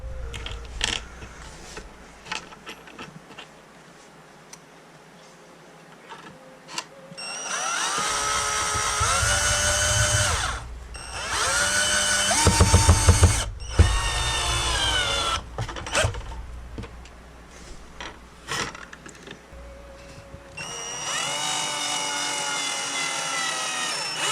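A power drill drives screws into a DIY automatic fishing rig, its motor whining in several loud, sustained bursts of a few seconds each, with quieter mechanical handling noises between the runs.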